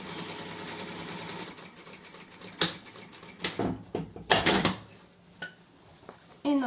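Sewing machine stitching a fabric pouch closed, bursts of fast rattling stitches broken by pauses, knocks and handling noises, close and moderately loud.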